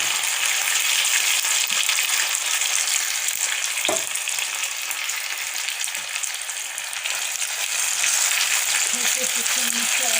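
Red chili being stirred into a dhaba-style dal tadka in a sizzling pan, a loud, continuous crackling fry close up with occasional scrapes of the spoon and a little speech underneath.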